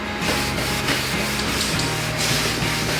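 Watered-down paint is rubbed by hand onto faux shiplap wood boards, making a close, continuous scrubbing and rubbing friction noise for a few seconds with no speech.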